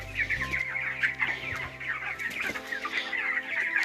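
Many chickens clucking together on a poultry farm in a busy, continuous chorus, with overlapping calls close by and a low hum in the background.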